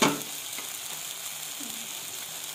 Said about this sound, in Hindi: अब इन सारे मसालों को हमने हल्का सा फ्राई कर लेना है टमाटरों के साथ ही मिक्स करके।